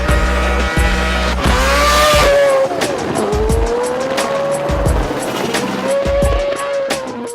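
A race car drives on a wet track, its loud engine revving and rising and falling in pitch as it passes close, with water spraying out behind and brief tire squeal.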